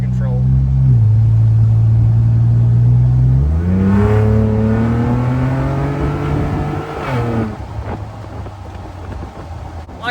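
A Ford Bronco Raptor with a CPE downpipe, driven with the doors off, its engine and exhaust droning loudly and close, then revving up through a long climb in pitch before settling, with a voice talking faintly underneath.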